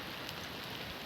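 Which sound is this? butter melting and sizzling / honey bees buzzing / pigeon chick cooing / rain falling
rain falling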